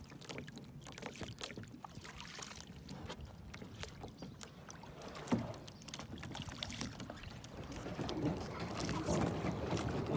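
A child paddles a kayak on open water, with soft irregular splashes and drips from the paddle strokes over light wind buffeting the microphone, and no one speaking.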